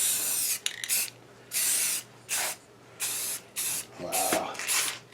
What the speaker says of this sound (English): rattle can painting is our specialty here